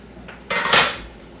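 Metal cookware clatter as a lid is lifted off a pot of rice to check it, a faint tap followed by a loud short clanking scrape, close by, then quiet.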